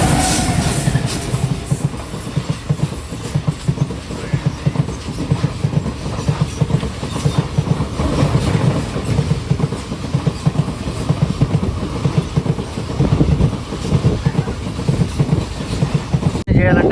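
Passenger train on the Pamani Express run from Tirupati toward Arunachalam, with a steady close rumble and rhythmic wheel clatter that continues without a break, and a second train passing alongside.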